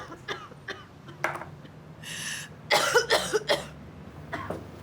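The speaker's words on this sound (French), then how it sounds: "T'arrêtes pas de tousser depuis que t'es arrivé?" A man's repeated coughing at close range: scattered short dry coughs early, then a louder cluster of harsh barking coughs toward the end, with no talk in between.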